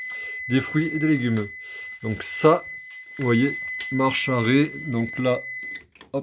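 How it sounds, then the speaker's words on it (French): Door-open alarm of a Bosch GSV33VWEV upright freezer: a steady high electronic beep sounds throughout while someone talks over it in French, then the tone cuts off near the end. "Il y a un bip, vous coupez le bip avec ce bouton-là."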